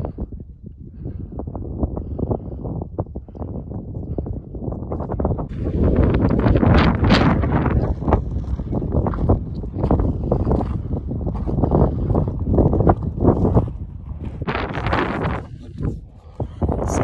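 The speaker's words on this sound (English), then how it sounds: "The wind is picking up" Gusty wind buffets the microphone high on Torreys Peak and Grays Peak, rising in strong roaring bursts through the second half, close and rough.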